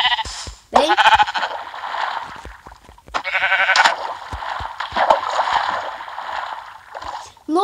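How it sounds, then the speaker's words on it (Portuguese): Several sheep in Minecraft give repeated short bleats, some fairly close and loud, with gaps of quiet between the calls and no talking over them. "Ovelha."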